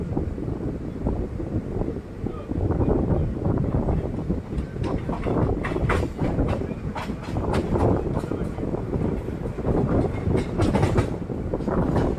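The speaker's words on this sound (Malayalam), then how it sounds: "അപ്പുറത്തെ ട്രാക്കിലൂടെ വന്നുകൊണ്ടിരിക്കുന്നത് Thiruvananthapuram central Mangalore central express ആണ്" A Thiruvananthapuram Central–Mangalore Central Express rumbles past on the adjacent track near Mahe, loud and close, with continuous wheel clatter, rushing wind buffeting the microphone and rhythmic clicks of the wagons going by.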